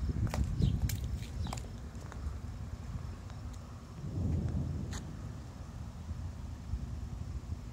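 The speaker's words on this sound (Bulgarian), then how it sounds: "Святка са, гърми са." A thunderstorm rumbles with low rolls of thunder, one near the start and a longer swell midway, over a dull background wash with a few sharp clicks.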